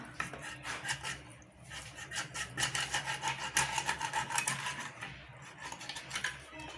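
A worn boti blade rasps and scrapes rhythmically through food as it is cut, close and moderately loud, with repeated gritty strokes.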